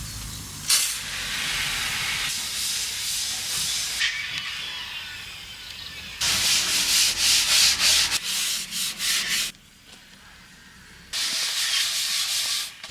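Wooden bulkheads inside an abandoned sailboat get scrubbed with Hempel teak cleaner, a loud, close, raspy back-and-forth rubbing in long strokes, then quicker rhythmic bursts, with short pauses between passes and no talking.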